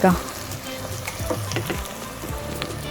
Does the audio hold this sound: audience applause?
no